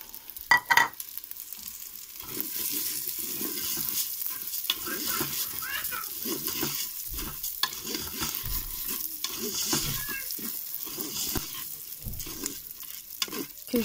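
Raw rice is stirred in a hot pan as it toasts, with a few loud clanks at the start, then steady dry scraping and gentle sizzling, close up.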